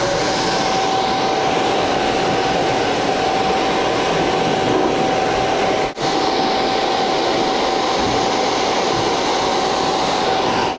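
A hair dryer blows continuously while hair is blow-dried in sections in a salon styling session, a loud close steady roar with a faint whine, briefly dipping once midway.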